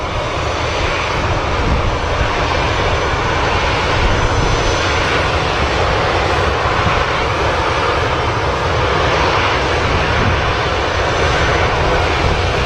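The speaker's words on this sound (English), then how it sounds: "Got another EasyJet A320 as well, holding short of the runway." EasyJet Airbus A320 jet engines at Manchester Airport, a steady, loud broadband roar that holds without a break throughout, heard from outdoors near the runway.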